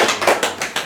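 Hands clapping in a rhythmic run of about five sharp claps within one second, close and fairly loud, with no voices over them.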